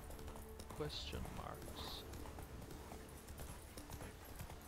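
A horse's hooves clop steadily in the video game The Witcher 3, in a faint, even rhythm with a voice murmuring underneath.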